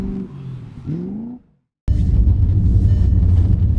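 Car engine rumbling and revving during drifting, a steady loud low roar that fills the second half after a brief silent gap.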